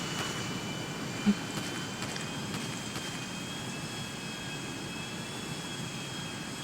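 An airplane engine in GTA Online drones steadily at moderate volume, a continuous jet-like whine and rumble with one brief click near the start.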